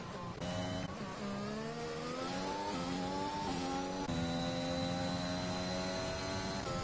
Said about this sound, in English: That engine doesn't sound very good.